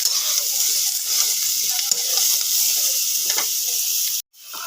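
Jackfruit and potato sauté together in a pan with a continuous loud sizzle and light stirring scrapes, the frying cutting off abruptly near the end before faintly resuming.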